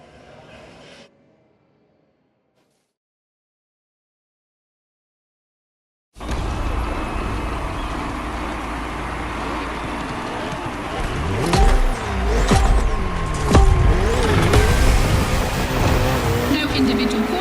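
Ferrari and Red Bull race cars in The Crew Motorfest circuit racing game: near-silence, then a sudden wall of loud engine roar that swells with rising and falling revs as the cars push hard.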